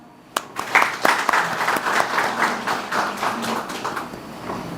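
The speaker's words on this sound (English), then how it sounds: "I want a huge round of applause for the Nagaland Post" Audience applauds the Nagaland Post, a media partner, at the grand opening ceremony of a NICSE centre, a burst of close clapping that starts sharply, holds steady and then thins out.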